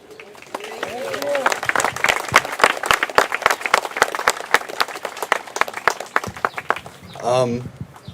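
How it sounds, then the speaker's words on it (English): A crowd at a candlelight vigil for a fallen police officer breaks into sustained applause, crisp close claps building and thinning over several seconds before a voice comes in near the end. "Another round of applause, please"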